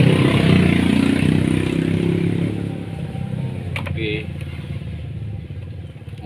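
A Honda Supra X125 motorcycle with a white-smoke fault idles and runs close by, its steady engine drone loud at first and easing slightly, with a brief metallic clatter and someone speaking over it.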